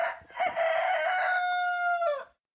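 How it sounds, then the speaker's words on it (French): A rooster gives one long, loud cock-a-doodle-doo. The crow is close and clear, holds a bright strained tone through the middle and breaks off sharply at the end. Silence follows, with no voices. "Vive la construction dans sa matérialité et sa symbolique. Cocorico."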